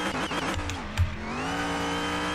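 A car in Car Mechanic Simulator 2021 slides sideways off the road edge, its engine droning with rising and falling pitch alongside a brief squeal of tyres and a thump around the middle.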